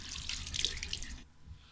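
Water runs from a tap, a faint splashing stream that plays for about a second before stopping, close and quiet with no talk.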